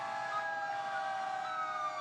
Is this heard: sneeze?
no